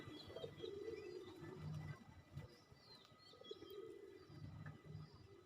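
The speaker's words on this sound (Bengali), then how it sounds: "এই গাছে অনেকগুলা কবুতর আছে" Pigeons cooing in a tree, soft repeated low coos from several birds at a moderate distance, with faint chirps from other birds around them.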